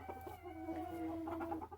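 A black Silkie rooster with a green tail gives soft, drawn-out clucks close by on a homestead, alone over a low steady background hum.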